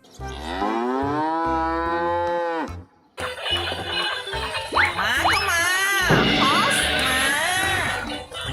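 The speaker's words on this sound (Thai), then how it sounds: "Cow." A pink toy dairy cow gives out loud, drawn-out moos, one long call followed by more bellowing mixed with bright electronic toy sounds, close and clear.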